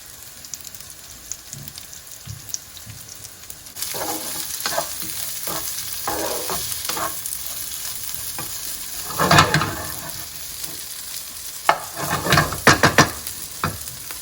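Cooked potatoes frying on high heat with cumin in a pan, a steady crackling sizzle with intermittent scraping and stirring noises, heard close up.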